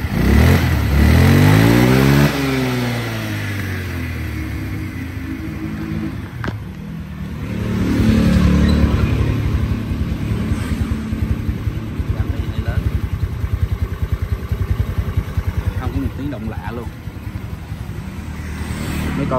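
An original 2003 Honda Spacy 125 scooter engine revs up and back down, then settles into a steady, close idle while someone talks over it.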